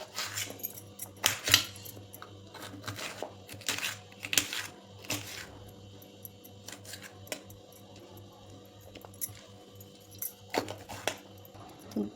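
Knife chopping capsicum on a board for pav bhaji, a scattered run of sharp near taps, some in quick bursts, over a steady low kitchen hum.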